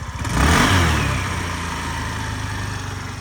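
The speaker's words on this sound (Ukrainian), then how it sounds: "чисто, чудово, без ніяких питань працює двигун" A Suzuki Address V 125 scooter engine from 2017 revs up briefly, then settles into a steady, close, putt-putting idle with no talking.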